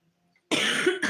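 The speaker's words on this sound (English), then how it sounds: "Sorry about the cough." A single harsh, close cough bursts out after a moment of silence, with a brief second catch at the end.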